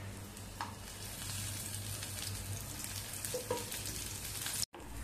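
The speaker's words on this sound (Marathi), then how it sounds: "आपल्याला चांगला कांदा लाल होईपर्यंत भाजून घ्यायचा आहे" Onion, garlic and ginger fry in oil in a pan, giving a soft, even sizzle with faint crackles and a brief dropout near the end, with no talking.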